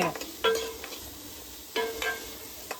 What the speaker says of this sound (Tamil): இது நல்லா செவக்க வறுத்து நல்லா வணக்கி எடுத்துக்கோ